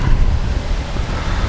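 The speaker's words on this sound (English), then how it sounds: "this wind's coming up again" Gusty wind outdoors by the water buffets the microphone in a loud, steady low rumble with broadband rushing noise, briefly and without voices.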